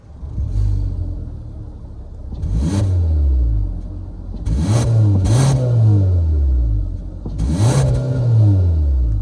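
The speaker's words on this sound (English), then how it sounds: "that was of course the sound of the 2-liter naturally aspirated 4-cylinder sold by Kia for the 2022 Forte" A 2-liter naturally aspirated four-cylinder engine in a 2022 Kia Forte LXS idles, then is revved several times in quick bursts, each rising and falling, loud and close.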